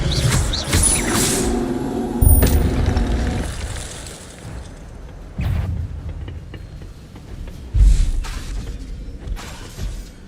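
Fire spell cast in the Hogwarts Legacy video game, bursts of whooshing, crackling magical blasts that hit at intervals over a rumbling game soundscape, loud and close with no talking.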